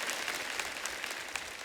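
Studio audience applauding steadily to welcome a guest onto a comedy talk-show stage, a dense even clatter of many hands without pause.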